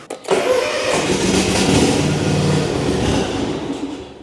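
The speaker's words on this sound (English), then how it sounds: "we're gonna turn the engine over and let it run for like 15, 20 seconds" A Cub Cadet ZTX5 60-inch zero turn mower engine cranks and catches with a sharp start, then settles into a loud, steady running roar close by.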